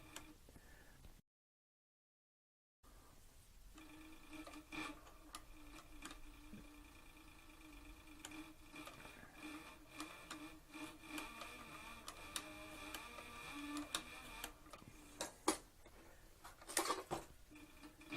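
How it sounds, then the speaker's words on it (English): An industrial cylinder-arm, triple-feed sewing machine with a servo motor stitches a ply flank strap of leather for a Western saddle. It runs slowly and steadily as a soft rhythmic ticking and whirring, close by, with a brief gap near the start and no talk. "I'm sewing without a guide."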